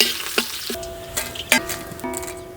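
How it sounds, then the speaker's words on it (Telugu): Three sprigs of curry leaves fry in about four spoons of hot oil in a kadai, giving a close sizzle broken by several sharp crackling pops. "కడాయి పెట్టుకొని 4 చెంచాలు నూనె వేసుకొని 3 రెమ్మల కరివేపాకు వేయించుకుని"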